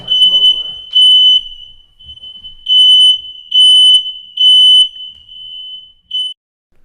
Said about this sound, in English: my smoke alarms went off